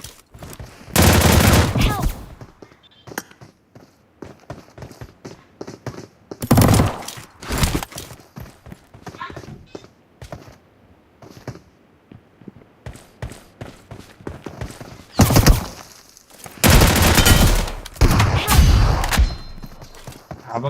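Rapid bursts of gunfire from a close-range 2v2 video game fight, loud repeated volleys separated by short gaps, with someone talking between and over the shots.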